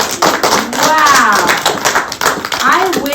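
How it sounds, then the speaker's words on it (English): Children clap together after a story, a loose patter of small hands mixed with chatter and voices throughout, close and fairly loud. "Clap for that one."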